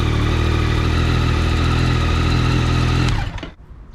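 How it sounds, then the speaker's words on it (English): A Yamaha R9 motorcycle engine runs loud and steady at idle, a dense continuous drone, then cuts off abruptly near the end and falls silent. "Turn the bike on."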